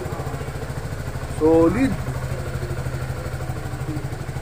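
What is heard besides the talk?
QJMotor Fortress 400 scooter engine and stock muffler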